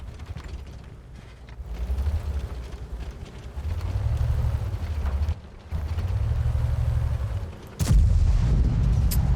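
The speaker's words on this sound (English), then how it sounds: "I'm getting blind fire, though. I can hear it." Distant tank gunfire from unseen enemies in World of Tanks booms and rumbles in repeated low swells, ending in a sharper, louder blast near the end, with mechanical creaking throughout and no talk.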